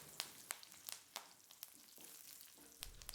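Crushed garlic, cumin seeds, mustard seeds and curry leaves sautéing in oil, a faint close sizzle punctuated by sharp crackles and pops of spluttering seeds.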